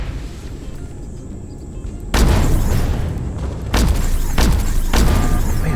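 Heavy weapon fire in the space game Empyrion, several deep booming blasts landing in separate bursts over a low ambient hum, loud and close.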